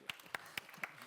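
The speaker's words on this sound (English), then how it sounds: "It's applause, huh?" Faint, sparse clapping from a few people in a panel discussion audience at a startup event, four or five distinct claps spaced evenly over about a second.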